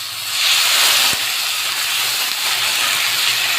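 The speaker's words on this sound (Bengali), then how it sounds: "এখন এই পেটির মাপ করে দিয়ে দিব 4 পেটির জল।" Hot water poured onto rice frying in a pot for egg biryani, making a loud, continuous steamy hiss and spray that swells at first, then holds steady, with one brief knock.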